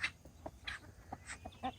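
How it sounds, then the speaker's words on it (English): Faint, scattered calls from roosters, a few short clucks and chirps spread across the moment, with no one speaking. "And that one over there is a rooster."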